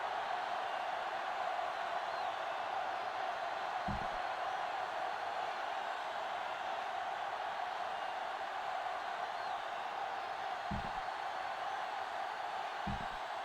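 Steady stadium crowd roar at kickoff of a Madden 06 American football game, Texans against Bills, a constant broad wash of cheering with a few brief thumps breaking through.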